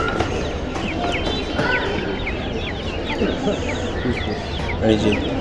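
Many chickens and partridges cluck and squawk continuously in a busy, close chorus at a bird market, with people talking underneath.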